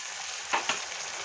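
Koi fish masala fries in a hot pan with a constant sizzle, broken by two quick stirring scrapes, with no talk.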